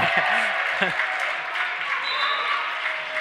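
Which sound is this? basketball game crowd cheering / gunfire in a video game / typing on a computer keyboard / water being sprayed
basketball game crowd cheering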